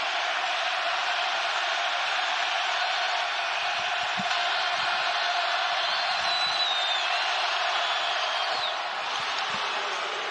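A basketball arena crowd and student section at a Baylor versus Kansas State college game roar loudly and continuously, a dense, sustained wall of cheering with occasional whoops cutting through.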